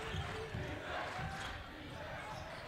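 Crowd in a high school boys basketball gym cheering steadily at moderate distance, with a broad continuous roar and occasional ball bounces under it.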